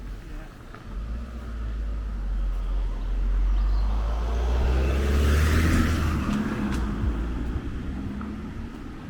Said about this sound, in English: There's a car coming, David.